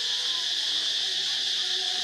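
A cicada in a park in Cambodia drones loudly and without a break, a steady high buzzing that fills the whole stretch with only faint background sound beneath it.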